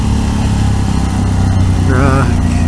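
A motorcycle engine runs loud and close for the whole stretch, a continuous rough mechanical drone with no pauses.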